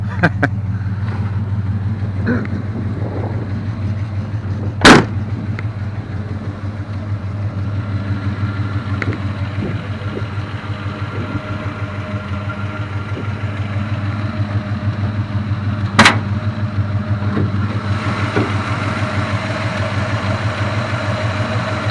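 A 1966 Plymouth Belvedere II engine idles steadily with a low, slightly uneven drone and two sharp clicks partway through, with no talking.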